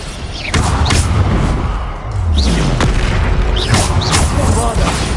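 Explosions from the Bombarder spell in a wizard video game, a few heavy booming thuds at intervals, loud and dense amid continuous game noise and a shouting voice.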